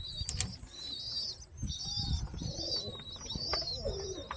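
Pigeons coo softly and flap their wings in a loft, with several wing-beat bursts and low cooing calls up close.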